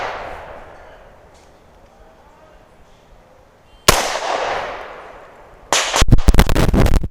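Gunshots from a .40 S&W pistol with a Barstow match grade barrel: a loud sharp report with a long decaying echo, then a second shot, then a fast string of cracks near the end, all close and outdoors.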